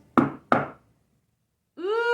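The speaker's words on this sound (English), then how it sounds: "So let's practice doing that and then adding 2 knocks." Two sharp knocks on a piano's wooden body during a beginner piano lesson, close and evenly spaced, followed after a pause by a sustained sung or voiced tone.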